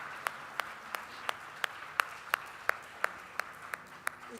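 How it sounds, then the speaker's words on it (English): A single person claps slowly and steadily, about a dozen evenly spaced sharp claps, at the close of a session of the Fundación Imagen de Chile 2024 meeting, rather than full audience applause. "This deserves a big round of applause."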